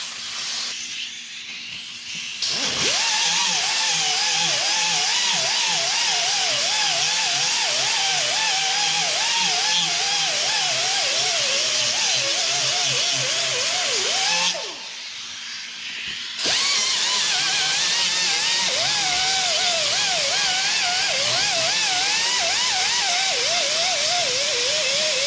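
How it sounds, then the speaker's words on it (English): Power tool grinding and sanding fiberglass filler during rocker panel and cab corner repair on a 1999-2007 GM truck, a loud, continuous whirring whine with wavering pitch, broken by two short pauses where the tool stops. "I'll typically just rough it out with a little grinder and an orbital sander"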